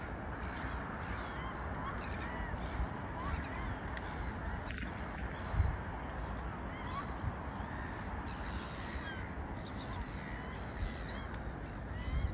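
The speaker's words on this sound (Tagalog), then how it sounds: "Ang dami ibon." A large flock of birds calls together at low tide, a dense, continuous wash of cawing and honking that holds steady throughout, with a few voices talking quietly beneath it.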